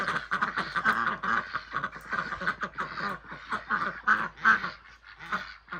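A flock of hungry ducks quacks busily at breakfast feeding time, a dense run of loud, nasal calls overlapping in quick irregular bursts close by, with no talk.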